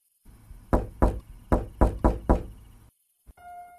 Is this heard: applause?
no